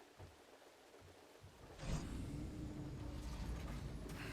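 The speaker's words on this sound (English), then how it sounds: "And it's raining again." Steady rain hiss in the video game Horizon Forbidden West sets in after a quiet start, rising to a constant wash of falling water with a low rumble beneath.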